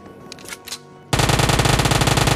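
A sudden loud, fast burst of Uzi fire in a battle royale video game kicks in after a second of quieter background clicks, a steady rapid rattle of shots close up.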